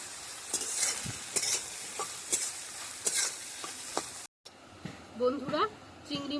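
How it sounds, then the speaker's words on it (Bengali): Shrimp sizzle and crackle in hot oil as a spatula repeatedly scrapes and stirs them around a pan, a steady frying hiss broken by rhythmic stirring strokes, followed by quieter clinks and a brief voice after a short gap. "চিংড়ি মাছগুলো আমরা ভালোভাবে ভেজে নিয়েছি।"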